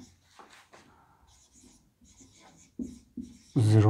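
Pen or pencil scratching out maths working on paper, a quiet run of soft writing strokes with a louder rubbing burst near the end.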